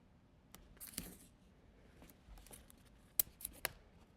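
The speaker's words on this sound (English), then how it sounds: "Actually, I'm going to cut that edge" Scissors cut along the edge of a paper plate in a few faint, close snips near the end, after some soft paper rustling in an otherwise quiet room.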